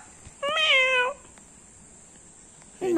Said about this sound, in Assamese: বনৰীয়া মেকুৰী বুলি কয় এইটোক।